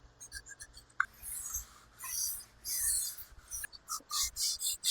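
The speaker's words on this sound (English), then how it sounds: "I'm going to hand sand all of the roundovers and then sand the rest of the tops" Walnut is sanded by hand with 150 grit sandpaper in a workshop, making close, rhythmic rasping strokes that start sparse and pick up into a steady back-and-forth pattern, with no talking.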